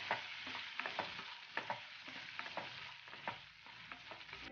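Tomato and onion fry in hot oil for a North Karnataka kharbyali lentil dish, a steady close sizzle broken by repeated scraping stirs of a spoon, with no voices.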